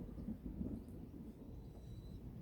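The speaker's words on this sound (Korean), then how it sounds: "천둥이 많이 치고 있네요" Thunder rolling outside during a storm near a mulberry field, a faint, distant low rumble that swells early and then settles into a soft steady murmur.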